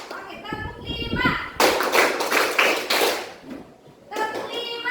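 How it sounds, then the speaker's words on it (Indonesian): Children in a classroom counting game clap their hands together in short bursts between a teacher's spoken prompts, with kids' voices and scattered taps and thuds in a lively room. "Oke, tepuk 5."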